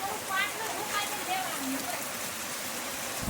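Steady rain patters on a surface in a dense, even hiss, with a few faint calls or squeaks in the background.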